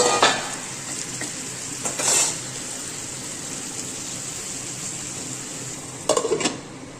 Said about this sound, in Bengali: একটু ভালো করে ভাজা করে নিয়ে সামান্য একটু জল দিয়ে ঢেকে থাকবো